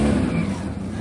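The engine of a classic sports car revs loud and close, holding a steady, rough mid-pitched roar for about a second with no other sounds.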